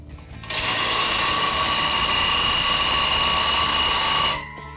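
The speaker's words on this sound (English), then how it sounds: "I'm gonna go ahead and lay this thing down when I torque the axle nut on there" A power tool runs in one steady, loud, high-pitched burst of about four seconds as it torques an axle nut on a Black Boar disc harrow, starting and stopping abruptly, close by and with no talk.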